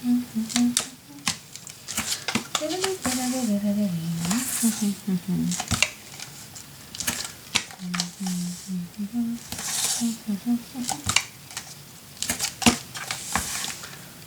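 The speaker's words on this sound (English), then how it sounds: "Tape all around." Adhesive tape pulled off the roll and pressed down while a Halloween haunted-house mini album is made: crackly, scattered pulls and taps with a soft voice humming or talking underneath.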